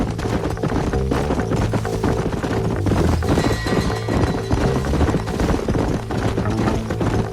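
Horse hooves clip-clopping in the video game Red Dead Redemption, under a dense, loud game soundscape with music and clattering effects running continuously.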